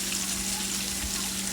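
Beef frying in hot oil gives a steady, even sizzle, close and continuous, with no voices over it.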